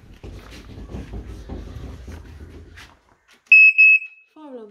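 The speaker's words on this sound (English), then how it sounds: "Fire alarm's working." A smoke alarm in a house under final inspection gives two loud, shrill high-pitched beeps during a test, after a stretch of footsteps and handling noise.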